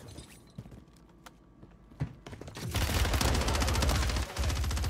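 Heavy automatic gunfire on Rebirth Island in Call of Duty Warzone: a few scattered clicks and shots, then a dense, loud burst of rapid rounds that fills the last two seconds, with no talking.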